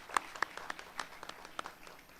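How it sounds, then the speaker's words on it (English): Scattered, fairly faint clapping from an audience at a middle school promotion ceremony, a handful of distinct sharp claps spread unevenly over a quiet hall. "One more round of applause for George."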